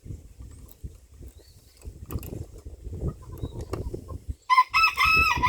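Chickens cluck in low, scattered bursts around a backyard coop, then a rooster lets out a loud, close crow in the final seconds.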